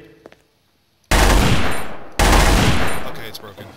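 Two loud, sustained bursts of automatic gunfire in the video game Trouble in Terrorist Town follow a brief quiet moment, each burst a dense, rapid rattle.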